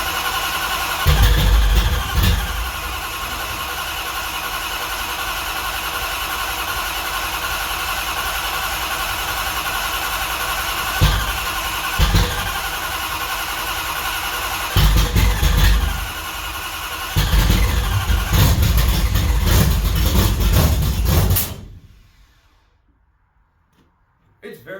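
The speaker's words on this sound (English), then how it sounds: "it's been a while since we fired this engine up" A car's Mopar W2 340 engine, fired up after sitting in cold weather, runs loud at idle with a few blips of revving, and people talk over it before it shuts off near the end.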